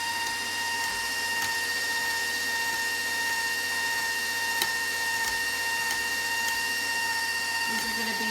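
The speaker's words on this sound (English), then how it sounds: "Now she is turning on the mixer" An electric mixer beats yellow cake mix batter with a steady, even motor whine and hum that runs the whole time with a few faint clicks.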